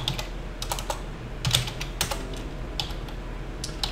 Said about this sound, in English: I'm going to type in notepad tester.java